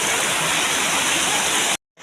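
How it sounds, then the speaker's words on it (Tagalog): Steady broadband roar of water rushing at a secret waterfall, loud and continuous, cutting off abruptly near the end. "tubig."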